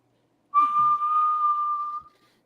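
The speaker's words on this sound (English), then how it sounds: "And there is, in the darkness, a low whistle." A single low, steady whistle, clear and sustained for about a second and a half, then fading out; otherwise quiet.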